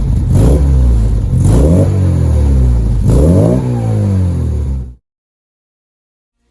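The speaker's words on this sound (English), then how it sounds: "That carburetor has transformed how this engine performs." A car engine, newly fitted with an upgraded carburetor and exhaust, revs hard three times close by, each rise followed by a falling note, then cuts to silence.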